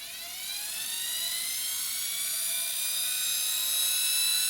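A homemade electric motor running on an old 12-volt leisure battery whines at high speed, a steady shrill electric scream that climbs slightly in pitch and grows a bit louder, with no talking.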